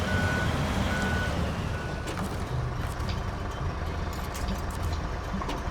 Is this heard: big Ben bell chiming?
no